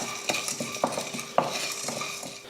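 Dry whole spices (cinnamon, cloves, cardamom) scraped and stirred around a metal kadai while dry roasting, with soft scratching and a few sharper clinks of a spoon against the side.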